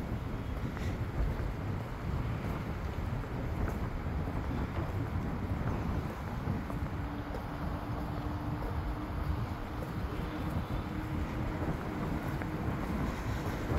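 Steady wind blowing outdoors in the Silk Park on Dao Dua at Vinhomes Ocean Park 2, a continuous low rumble and buffeting against the microphone with no voices.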